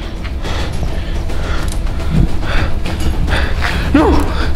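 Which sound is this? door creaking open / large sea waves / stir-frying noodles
door creaking open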